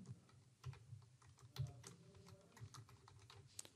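Fingers type on a computer keyboard while entering a time zone into a Zoom meeting setup, quiet irregular clicks and taps close by with no talking.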